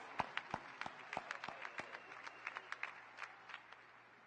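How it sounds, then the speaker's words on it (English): An audience at a graduation ceremony claps steadily, with distinct individual hand claps popping over the soft wash of applause. "Please give them a round of applause"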